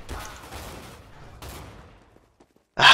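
Counter-Strike: Global Offensive gunfire comes as a short burst of shots, then a second shot. Both fade into quiet before a loud sharp blast at the very end. No one speaks.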